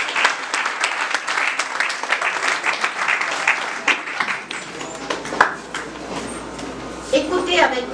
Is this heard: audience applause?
yes